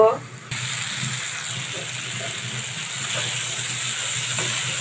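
Chickpea curry sizzles and bubbles steadily in a pot once the lid comes off, a continuous moderate frying hiss following a brief clatter at the start.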